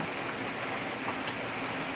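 Heavy monsoon rain pours down steadily across Nanded district, a dense, unbroken hiss of falling water that stays loud and even throughout with no voices.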